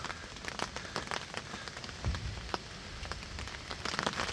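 Heavy rain pelting down on a fishing camp shelter in France, a dense patter of many sharp drops striking a surface close by, steady and irregular throughout with no voices.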